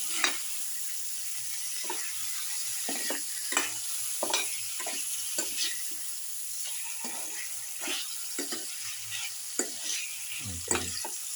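A chicken mixture with salt and curry fries in a pan under a constant soft sizzle, while a utensil scrapes and stirs it in repeated irregular strokes over several seconds.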